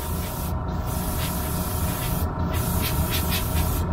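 Airbrush spraying paint onto a Revell U-Wing Fighter model kit, a steady close hiss of compressed air running continuously with brief dips and faint rubbing.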